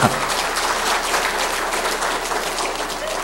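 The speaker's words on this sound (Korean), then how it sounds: "우리도 박수 한번 보내줍시다." Congregation applauding during a Korean church service, dense sustained clapping from many hands filling the room for a few seconds, fairly loud and steady with no talk over it.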